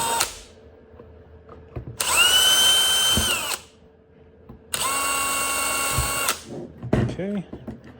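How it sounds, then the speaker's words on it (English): A power drill with a 3.5mm bit runs in two sustained bursts, each about one and a half seconds long, whining at a steady pitch. Someone talks between the bursts and clicks and handling noises are heard around them. "Drill straight through those"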